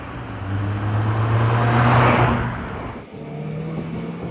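A Honda TSX accelerates hard without its VTEC engaging, the engine rising in pitch and loudness for about two and a half seconds before abruptly dropping off and settling into a lower, steadier hum.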